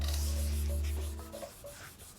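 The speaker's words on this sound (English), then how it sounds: "So now I'm sanding left to right here" Close, repetitive rasping strokes of sandpaper rubbing a faded plastic car headlight, steady back-and-forth rhythm over a low hum, fading slightly toward the end.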